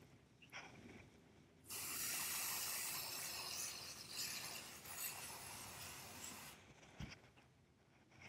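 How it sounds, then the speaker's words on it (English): Green Wilton Color Mist food coloring sprayed through a thin stripe stencil onto a holiday cookie, a steady near hiss running several seconds with softer bursts before and after, no talking. "I'm actually going to spray some green now on these thin stripe stencils"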